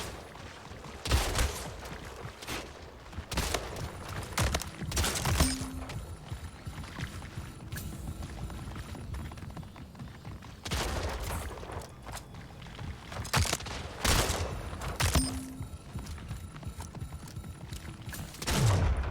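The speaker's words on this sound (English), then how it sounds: "Reload is what gets me most of the time with this shotgun" Shotgun blasts in the arena shooter Splitgate, several loud sharp bursts spaced a few seconds apart over steady game ambience, with mechanical reload clicks between shots.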